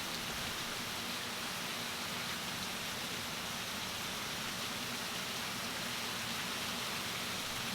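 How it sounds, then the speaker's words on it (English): A tropical downpour from Storm Laura roars as a constant, dense wash of falling rain, close and loud with no pauses. "Just tropical downpours from Laura."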